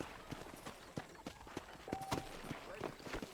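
Horse hooves clip-clop in a steady, moderately close rhythm in a Red Dead Redemption style video game, with a voice talking over the footfalls.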